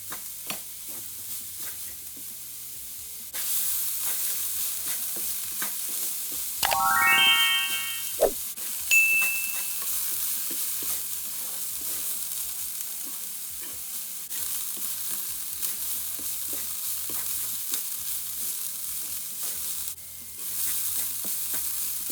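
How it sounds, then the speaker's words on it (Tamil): Onion flower sautéing in a pan with dried fish and grated coconut, gently stirred: a continuous sizzle with scraping and a few metallic clinks and rattles of the spoon, loud and close with no talk. "கொஞ்சம் தேங்காய் பூ எல்லாத்தையும் மடிவாக கிளறி கொஞ்சம் வதங்க மட்டும் விட வேணும்"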